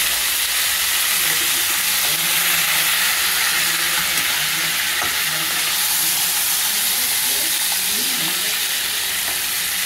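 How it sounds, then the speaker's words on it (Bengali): A crab mixture fries in hot oil for a stew with gourd and potatoes, giving a loud, continuous close-up sizzle and hiss with faint bubbling and crackles underneath, and no talk. "এই তেল গরম হয়ে গেছে, তেলের মধ্যে এটা ঢেলে দিলাম।"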